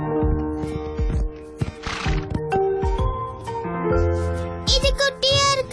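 A horse in an animated Barbie pony movie neighs with a loud whinny near the end, amid hoof clip-clops, soundtrack tones and other cartoon effects.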